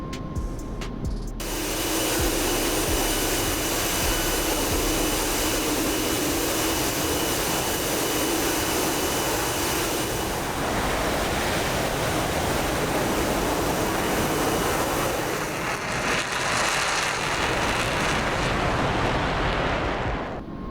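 Continuous roar of an F-5E jet engine in flight in the DCS flight simulator game, a loud, broad, steady rush that holds for about twenty seconds with slight shifts in tone and no speech.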